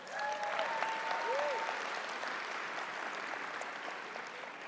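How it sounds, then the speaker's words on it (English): Audience applause for event sponsors at a startup fast-pitch innovation session: a dense, steady wash of many hands clapping that holds at an even level throughout, with faint tonal sounds drifting over it. "Let's give them a round of applause."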